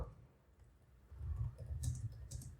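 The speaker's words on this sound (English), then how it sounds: "So I am typing" Keys tapped on a computer keyboard while Python statements are entered on a Windows 10 PC, a soft irregular clatter with bursts of quicker taps, close and alone.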